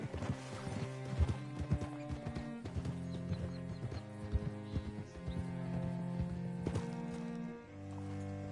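A horse in Red Dead Redemption 2 moves at a steady clip, its hooves striking in a rhythmic clatter under a sustained musical drone, with an occasional whinny.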